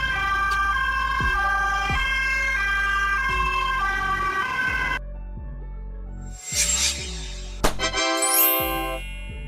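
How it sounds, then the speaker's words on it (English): A loud two-tone siren wails in a steady alternating pattern, then cuts out, leaving bursts of traffic noise and a brief renewed tone. "Ambulances here are usually Mercedes-Benz Sprinter, Volvo XC90, and Volkswagen Crafter."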